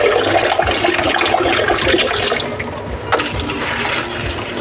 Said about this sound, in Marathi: जितकं स्वच्छ धुता येईल तेवढं स्वच्छ धुवून घ्यायचं